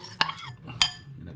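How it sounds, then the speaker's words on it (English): Sliced beef being mixed in bulgogi marinade, two sharp clinks of a utensil against the bowl with soft wet stirring between them, close and quiet. "Give that a bit of a mix up"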